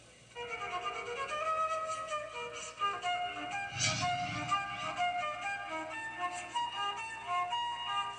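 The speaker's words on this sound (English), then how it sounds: "The flute has such a smooth tone, and it's so relaxing." Flute melody by a 14-year-old player inside St. Thomas the Apostle Roman Catholic Church in Bloomfield, New Jersey, smooth sustained notes ringing with reverberant room echo, steady and moderately loud with no talking.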